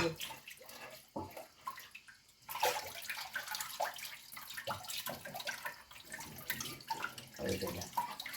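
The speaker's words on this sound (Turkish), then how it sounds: "Bulaşık yıkayacağız" Dishes washed at a kitchen sink under running tap water, with steady splashing and spraying broken by clinks and bursts of flow throughout, close and moderately loud.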